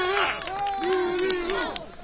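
Crowd of citizens clapping and cheering at the night launch of the Nuri rocket, a dense steady wash of applause and shouts with voices rising and falling throughout.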